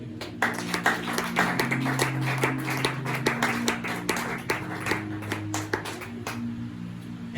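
A church congregation claps in a steady, rhythmic beat over sustained music, the hand claps crisp and fairly close, with no clear speech.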